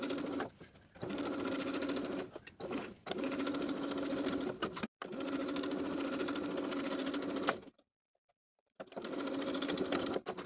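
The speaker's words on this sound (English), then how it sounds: "I'm going to sew those bottoms of the facing to the bodice with a 1 inch seam allowance" Sewing machine stitching a facing to a bodice with a 1-inch seam allowance, running in steady whirring bursts of a few seconds each, with short pauses and one longer silent stop, no voices.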